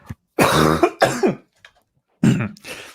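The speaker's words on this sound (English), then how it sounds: "The proprietor turns and coughs" A few harsh throat-clearing coughs come in short bursts, close and loud, separated by brief silences.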